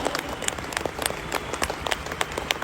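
Audience applause at a speech event, a dense burst of many hands clapping close by, steady and lively throughout without voices rising above it.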